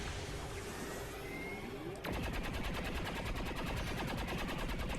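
Automatic gunfire from XCOM 2: War of the Chosen erupts after a quiet stretch of game ambience, then continues as rapid, loud, sustained machine-gun bursts with a steady rattling rhythm.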